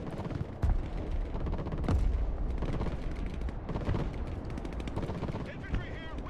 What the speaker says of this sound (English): Oh, and we're already getting mortared. Heftily as well.